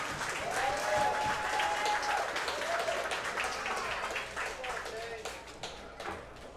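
A crowd at a pool tournament applauds in a dense, sustained wash of clapping that slowly thins out, with voices talking over it.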